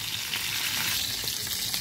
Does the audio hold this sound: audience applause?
no